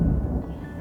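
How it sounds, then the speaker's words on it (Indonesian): A loud, deep roll of thunder rumbles low and heavy, fading slightly over a short stretch, with no voices over it. "Ada petir besar kedengarannya. Gede banget ya guys."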